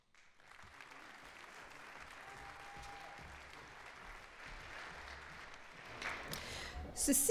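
A graduating crowd at a 2021 humanities faculty degree ceremony gives sustained applause, a faint, even clapping wash that swells toward the end.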